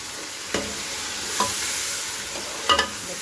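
Ground tomatoes being stirred into frying masala in a pan, a continuous sizzle with three spaced scraping strokes of a spoon, the last one louder and doubled.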